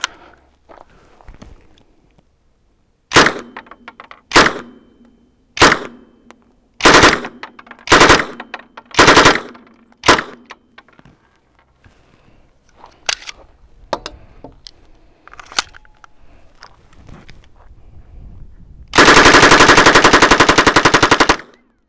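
A PM-63 machine pistol fires outdoors in sharp, loud reports: single shots and short bursts spaced every second or so, followed near the end by a longer, continuous burst of rapid fire.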